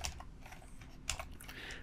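Quiet computer keyboard typing of custom CSS, a few soft scattered keystrokes with short gaps over a faint steady background hum.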